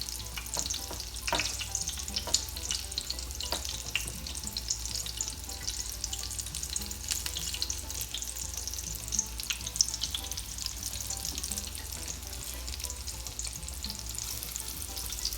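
Black bean cakes brown in canola oil in a pan heated to medium-high, giving a continuous close hiss and crackle of frying with occasional small pops and faint scraping, steady throughout with no voices.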